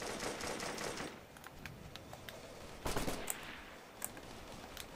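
Rapid gunfire in the military shooter Operation Flashpoint crackles densely at first, then thins into scattered sharp reports with a heavier burst of shots near the end, all at moderate loudness.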